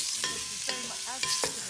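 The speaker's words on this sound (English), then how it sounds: "You don't need too much oil because what's going in next, some cut up bits of pancetta." Cut-up pancetta frying in a little oil in a pan, a bright steady sizzle with a few stirring scrapes, close and clear, no voices.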